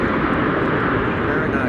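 A Delta Airbus A330 at windy Amsterdam Schiphol Airport produces a loud, dense jet roar that holds steady throughout the short stretch, with gusty wind noise mixed in.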